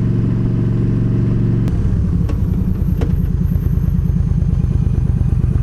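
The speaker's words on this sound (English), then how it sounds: "I'm just gonna park the bike over here because it's a little easier for me" Motorcycle engine running close by as the bike is ridden and brought to a stop to park, a loud steady low rumble that drops to a rougher idling chug with a few sharp clicks.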